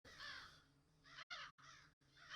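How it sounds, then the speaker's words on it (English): Crows in the Spooky Cyberpunk Ghost video game give harsh, drawn-out caws, several overlapping calls cut by brief silent gaps, with no voices over them. "Those crows look very defensive."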